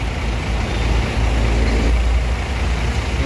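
Engine of a Putra Remaja intercity bus at a busy terminal: a loud, steady low diesel rumble with a slight swell midway, mixed with surrounding traffic noise and no talking.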